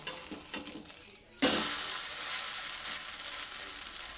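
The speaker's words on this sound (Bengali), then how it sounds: "এবার আমি ছেচকি দিয়ে উল্টে দিচ্ছি এটাকে" Semolina paratha in an oiled kadai turned with a metal spatula: a soft scrape and clack near 1.4 seconds, then a steady, moderately loud sizzle of frying that continues to the end.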